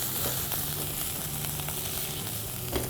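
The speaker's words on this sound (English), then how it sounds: "I'm going to fry these onions till they go lightly golden brown in color" Onions sizzle steadily in a pan with ginger garlic paste, a dense, close frying hiss with faint stirring and no talk.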